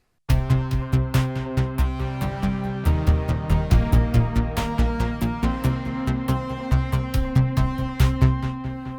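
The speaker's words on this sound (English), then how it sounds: "the main scene is actually based on a factory preset made by Gotobus called Jupiter Edge" The Roland JUPITER-Xm synthesizer's factory preset Jupiter Edge plays an arpeggio: steady, rapid rhythmic notes over bass and drum hits, loud and continuous, with no talking.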